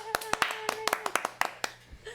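A small group of people claps in uneven bursts, close and crisp, as a homemade applause track, with voices talking over the hand claps.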